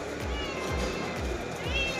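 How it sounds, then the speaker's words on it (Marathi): A hungry cat meows repeatedly in an industrial workshop, four short, evenly spaced cries close by, heard over a steady background hum and someone talking. "या मांजराला भूक लागली."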